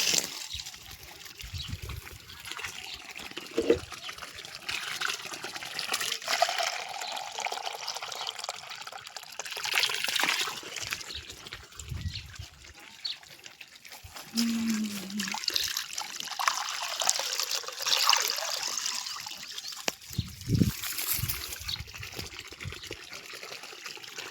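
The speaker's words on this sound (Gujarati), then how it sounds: "આમાં બી પાણી ભરવાનું છે" Water trickles and pours into a container, a continuous gurgling fill with soft splashes and faint background voices.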